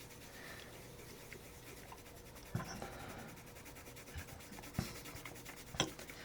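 A Faber-Castell Polychromos colored pencil shades across paper with light pressure, producing a faint, soft continuous scratching rub with a few small taps, close up and quiet.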